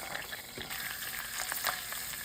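Carrots frying in oil in a pan, a steady close sizzle with faint scraping from stirring, no voices.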